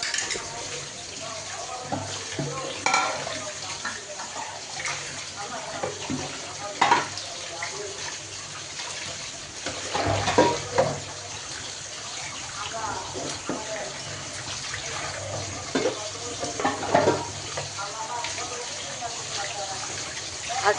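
A tap runs steadily into a sink while dirty cooking pots and utensils are washed during home cooking of khichuri, with occasional clinks of metal over the water and a voice talking over it.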